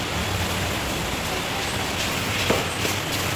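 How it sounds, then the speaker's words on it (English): Rain falls steadily during a day trip to a workshop in Agrabad, Chittagong, producing a dense, even hiss with a few brief louder splashes near the end and no voices. "it's raining"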